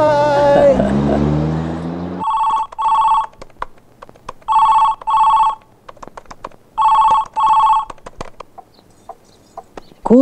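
A telephone rings in repeated paired bursts, three double-ring cycles separated by quiet gaps, loud and close, following a brief stretch of speech at the start.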